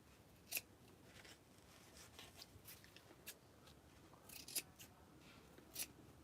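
Scissors trimming excess material, several quiet separate snips spaced irregularly across a faint background.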